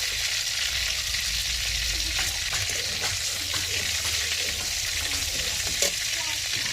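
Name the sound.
prawns frying in oil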